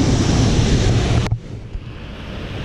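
Water rushes loudly at a cold waterfall in Baependi, Minas Gerais, with heavy wind buffeting the microphone at first, then settles into a softer steady roar after a sudden cut.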